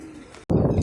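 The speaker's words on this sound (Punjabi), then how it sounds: "ਇਹ ਦੋਨੇ ਉੱਡ ਗਏ ਕਬੂਤਰ" A pigeon's low cooing rises after a brief break, close and fairly loud, with faint murmuring before it.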